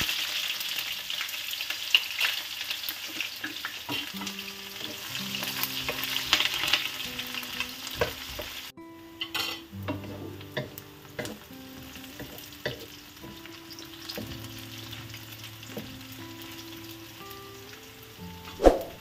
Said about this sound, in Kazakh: қызыған майымызға пиязымызды салып, қызартып қуырамыз